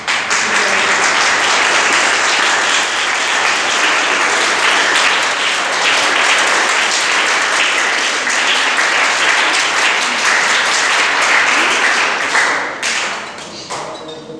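Sustained loud applause from an audience at a school farewell ceremony for a headmaster at a government high school, dense steady clapping that fades in the final seconds.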